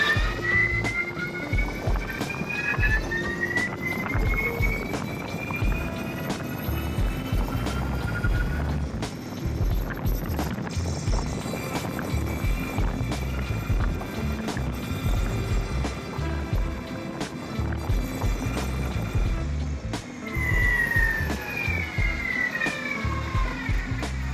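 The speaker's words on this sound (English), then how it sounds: "I do love the sound of a gear drive, that winding turbo noise" A V2 gear drive runs with a whining, turbo-like noise, its rising and falling whine sitting over a steady rumbling mechanical drone that continues throughout, fairly loud and close, with no talking.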